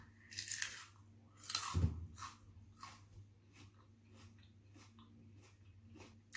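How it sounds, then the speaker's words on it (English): A jalapeno chewed with the mouth open, wet crunching and smacking bites close to the mic, one loud crunch early then softer rhythmic chews, fairly quiet overall. "It's better when you chew with your mouth open."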